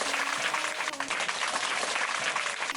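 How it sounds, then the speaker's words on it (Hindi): Children clap together at an indoor magic show, a dense burst of applause that holds steadily for a few seconds, with faint voices mixed in. "तो बच्चों बजाओ एक बार और ताली।"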